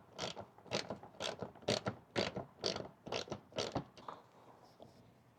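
A ratchet backs out a 10 mm bolt on a 2024–25 Toyota Land Cruiser mud flap, giving about ten rhythmic, close rasping clicks before it stops.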